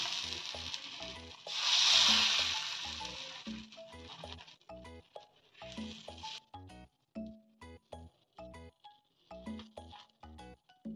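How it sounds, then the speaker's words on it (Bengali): Patishapta batter poured into a hot pan sizzles in a loud hiss that fades. Soft scraping follows as it is spread into a circle, with background music under it. "এইবার পাটিসাপটার ব্যাটারটা দিয়ে দিলাম, এইবার আমি আস্তে আস্তে ওটাকে গোল গোল আকার দেব।"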